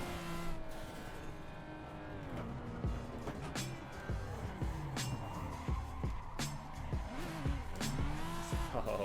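Toyota Supra MK4 drift build in Assetto Corsa at Spa, with a loud, continuous engine roar and repeated long tire squeals that rise and fall through slides, with sharp shifts and bursts of revving.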